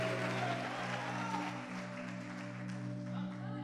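A church congregation applauds in a continuous wash of clapping, with a steady hum running underneath throughout.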